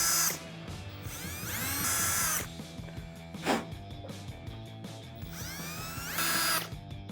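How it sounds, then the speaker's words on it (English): A power drill with a bit bores a hole during bodywork on a Dodge Challenger. The motor whirs up and down in several bursts with rising and falling pitch, plus a sharp click between runs. It sounds close and steady, with no talk. "before I actually go in with the drill bit"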